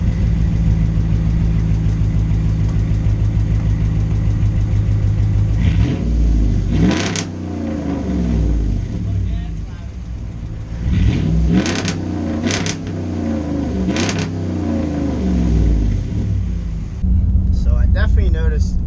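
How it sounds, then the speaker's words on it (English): A 2011 Ram 1500 pickup with the Hemi V8 and resonators deleted, idling with a raspy rumble, then blipped through several sharp revs that rise and fall, loud and close. "Let me rev it up."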